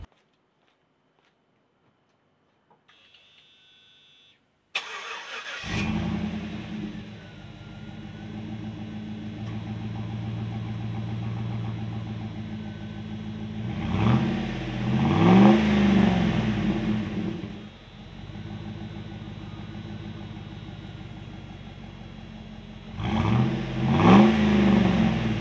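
A 2009 Chevrolet Silverado 1500 pickup truck's engine cranks over and starts, settles into a steady idle, then rises into two revving bursts separated by idling, close by with no talking.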